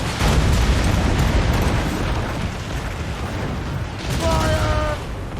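Ship cannons fire in Assassin's Creed Rogue during a naval battle, heavy booms rolling over a dense wash of battle noise, with a sharper burst near the end and crew voices shouting underneath.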